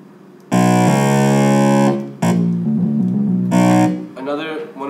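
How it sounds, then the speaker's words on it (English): Laser bass, an electronic bass instrument with its distortion effect switched on and off by a force sensor. Loud, buzzing, harmonically rich sustained tones come in bursts separated by brief drops, close and forward. "One of the FSRs was basically an on and off distortion switch."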